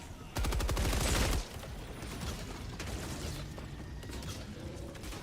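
Mortar fire in Helldivers 2: a loud, rapid burst of booming shots for about a second early on, then a lower, steady rumble of ongoing combat noise.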